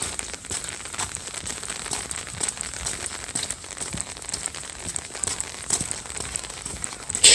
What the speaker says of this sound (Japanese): 雨がちょいちょい降ったり止んだりしてるけど